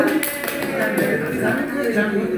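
Participants applaud a colleague during an online Jamboard training session, with a continuous patter of clapping from several people layered over background voices.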